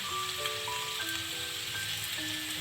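Floured Albanian-style liver frying in a pan, a faint, steady sizzle with fine crackling pops throughout, alongside soft tonal background music.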